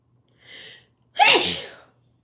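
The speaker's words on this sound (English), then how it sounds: "I might have to sneeze one more time." A soft inhaled breath comes first, then one loud, forceful sneeze right up close, tapering off into silence.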